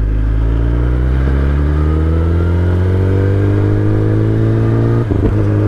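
A Royal Enfield Himalayan motorcycle engine drones loud and close on an off-road mud track, pitch climbing steadily as it accelerates, with a brief clattering bump near the end.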